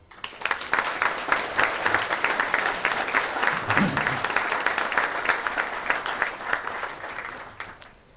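A crowd at a mayor's New Year's reception applauds the municipal volunteers, with sustained, fairly loud clapping that swells and then tapers off toward the end.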